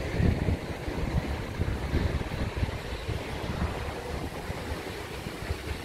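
Sea waves along a seafront promenade give a steady, broad wash of surf roar mixed with gusty wind noise, continuous and fairly loud throughout with no speech.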